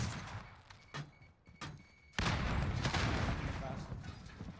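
Grenade blast and gunfire in Call of Duty: Modern Warfare during a tournament match: a few sharp shots, then a loud booming explosion that rolls into sustained noise, with voices heard nearby.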